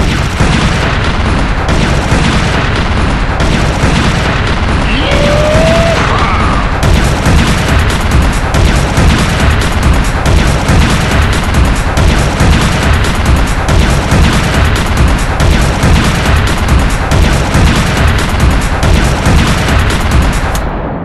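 Rapid, continuous gunfire from Serious Sam: The Second Encounter, loud and dense throughout with heavy booming blasts and fusillade-like bursts, no talk.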